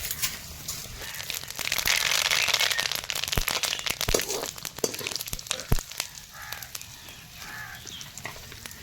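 Tempering spices (bay leaf, dried chilli, mustard, fenugreek) spluttering in hot oil, a crackly sizzling wash with scattered sharp pops and snaps, close and steady, no talking.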